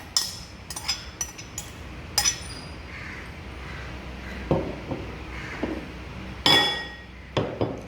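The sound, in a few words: mixing chickpea and microgreens salad in a bowl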